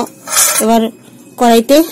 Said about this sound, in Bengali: এখানে মাছটা ভাজার জন্য আমি কড়াইটা বসিয়ে দিলাম